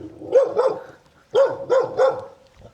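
A mother dog barks protectively at visitors near her puppies at a remote mountain home, giving five sharp, close barks in two quick bursts with a short pause between them.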